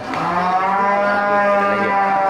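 Aceh cattle at a livestock market give a long, loud, drawn-out moo that fills the whole moment, with steady market murmur beneath.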